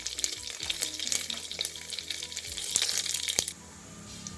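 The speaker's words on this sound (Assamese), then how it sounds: "5 ফোৰণ আৰু জলকীয়া ভাজি আছোঁ।" Panch phoron spices, dried chillies and bay leaf frying in hot oil, producing a crackly, popping sizzle with sharp spattering bursts and occasional stirring knocks, dropping to a quieter hiss at the end.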